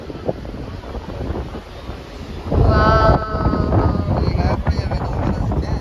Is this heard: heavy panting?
no